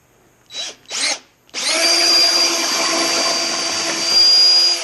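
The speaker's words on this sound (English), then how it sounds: "This drill is really quiet" Quiet power drill with a countersink bit drills screw holes in wood for sawhorses: two short revving bursts, then a sustained steady whine with a faint rising pitch, close and loud, with no talk.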